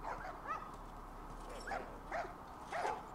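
A dog in the video game The Last of Us gives a series of soft, faint yips and whimpering barks, spaced irregularly over a low steady background hum.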